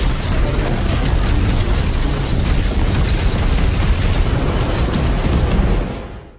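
A massive animated power blast from an attack, a dense, roaring wall of explosive noise that holds at full loudness for several seconds before quickly dying away.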